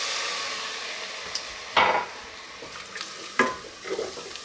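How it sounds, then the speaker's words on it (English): Onions sizzle loudly in a pot while red wine is poured in. A steady close hiss runs under a few sharp scraping and stirring knocks of a spoon against the pot. "So I'm gonna add some red wine because it's all that I have right now."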